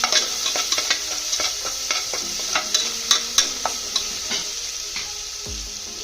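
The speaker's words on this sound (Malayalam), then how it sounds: "അരച്ചത് ഇട്ട് കൊടുക്കാം അതിൻ്റെ പച്ചമണം മാറുന്നത് വരെ നന്നായിട്ട് വഴറ്റി കൊടുക്കാം" A ground coconut paste for jackfruit curry is sautéed in a hot pan. Brisk, repeated spatula scrapes sound over a continuous gentle sizzle, close and without any voices.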